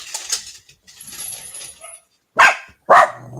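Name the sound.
dog barking by a gate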